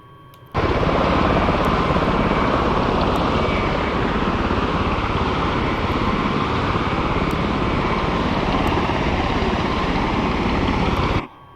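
V-22 Osprey tiltrotor in Microsoft Flight Simulator, its engines and rotors producing a loud, steady droning roar with a throbbing rotor beat that starts abruptly, holds constant, then cuts off; no talking.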